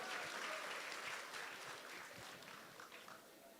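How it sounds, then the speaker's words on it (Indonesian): A crowd at a community gathering in Bandung breaks into applause, loud and dense at first, then gradually thinning and fading. "Siap, boleh tepuk tangan untuk Kang Ikhwan."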